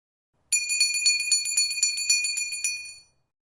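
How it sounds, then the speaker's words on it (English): A bright, rapid bell rings continuously for about two and a half seconds, a clear metallic trill with a crisp start and a quick fade, heard alone in a quiet audiobook scene. "The bell rang and Martha went out of the room."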